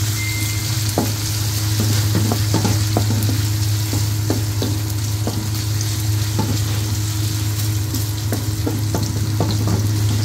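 Snails cooked in coconut milk being stirred in a pan with a wooden spatula, a loud steady sizzle and bubbling with soft irregular knocks from the spatula, close and continuous, no speech.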